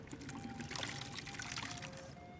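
Water pouring for a refill at an inn in Skyrim, a faint, continuous trickling splash at low level, steady for a couple of seconds.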